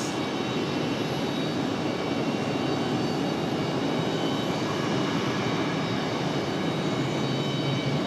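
Steady, loud broadband jet roar from an airliner taking off at Raleigh-Durham International Airport, filling the whole stretch as a continuous rumble with no voices over it.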